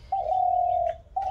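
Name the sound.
dove cooing in background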